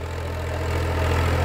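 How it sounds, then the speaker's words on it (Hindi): A Swaraj 735 FE tractor pulling a 14-disc harrow gives a loud, steady low engine drone that holds even throughout, with no voices over it. "बहुत ही गजब की हेरो खींच रहा ट्रैक्टर"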